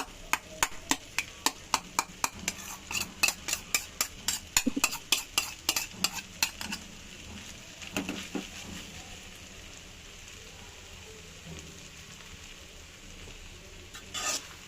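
Noodles cooking in a pan with an egg added: a quick run of regular, crisp scraping clicks from stirring, then a soft, steady sizzle with a few scattered knocks.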